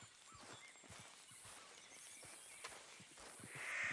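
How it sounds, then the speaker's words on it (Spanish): Hooves thud softly as a horse arrives in Red Dead Redemption 2, an uneven run of faint, close steps over quiet game ambience, with no speech. "A ver si viene nuestro caballito."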